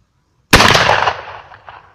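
A single 12-gauge shotgun blast from the lower barrel of an over-under at a can, loud and sharp after silence, decaying over about a second and a half.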